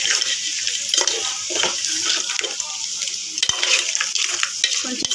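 A spoon stirs a tomato and raw mango curry in a frying pan, giving scraping and wet mixing sounds over a steady sizzle, close and fairly loud with no speech.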